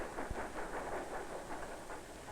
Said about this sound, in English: He hears the train coming into the station